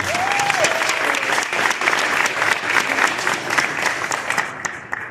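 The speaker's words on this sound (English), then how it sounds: "Let's give a big round of applause for that celebration." Sustained applause from a crowd, dense clapping holding steady for several seconds before easing off at the end.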